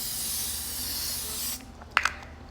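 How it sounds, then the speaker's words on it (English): L'Oreal 3-second setting mist sprays onto a face in one long steady hiss that cuts off sharply, followed by a couple of faint clicks. "And one final spray with the L'Oreal 3-second setting mist."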